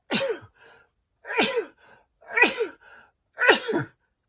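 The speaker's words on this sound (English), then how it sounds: "I'm going to sneeze." Four sneezes in quick succession, each a sharp burst about a second apart, close and fairly loud against silence.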